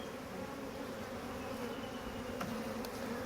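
A dense, steady drone of many honeybees buzzing close by, from package bees during queen cage removal, continuous throughout with no pauses.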